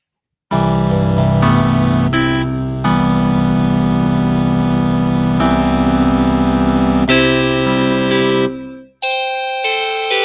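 A sustained, bright digital synthesizer tone from a Korg Opsix shifting between held chords, washed in reverb and echo, loud and continuous before briefly cutting out and resuming.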